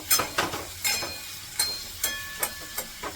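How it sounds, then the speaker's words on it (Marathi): Potato bhaji with Kashmiri chilli powder is stirred in a pan, a spoon scraping in a steady rhythm of about eight close strokes over a soft sizzle. "चांगली मिक्स करून घेते मी"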